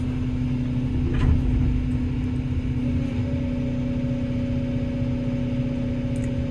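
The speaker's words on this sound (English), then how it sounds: "Load the engine up." A tractor engine running under load while pumping on a cold, windy day, a steady continuous low drone with a constant hum and no breaks across the whole stretch.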